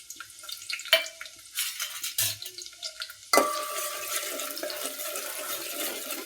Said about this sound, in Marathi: तेल गरम झालेलं आहे. त्याच्यामध्ये आपण कांदा टाकून घेऊया.